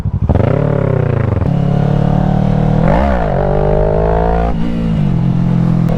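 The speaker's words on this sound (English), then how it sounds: "The wheelies on this bike are so much fun. It just pops right up." A motorcycle engine revs hard and loud up close as the bike pops a wheelie, the pitch sweeping up and falling back through several throttle changes with no voices.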